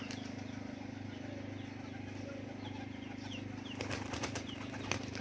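Young pigeons' wings flap in a flurry of quick, dry beats, growing louder near the end over a steady low hum and scattered faint clucking, in 46-degree heat.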